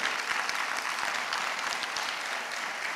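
Steady, dense applause from an audience at an island folklore festival in Maspalomas, continuous hand clapping filling the space without a break.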